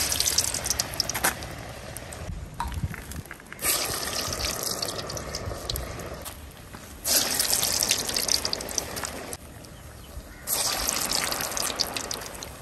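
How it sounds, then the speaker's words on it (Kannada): Urad dal vadas deep-fry in oil over a medium flame, giving a steady close hiss and crackle that swells and eases in waves, with no talking. "ಮೀಡಿಯಂ ಉರಿಯಲ್ಲಿ ಇದನ್ನ ಫ್ರೈ ಮಾಡಿದ್ರೆ ಆಯ್ತು"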